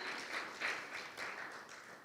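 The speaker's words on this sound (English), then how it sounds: "Clap your hands for the Lord." A church congregation claps for the Lord during a worship service, a steady wash of many hands with slight surges, moderately loud throughout and no voices standing out.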